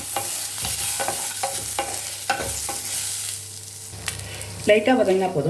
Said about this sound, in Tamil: இது எல்லாமே சும்மா லைட்டாக வதங்கினா போதும்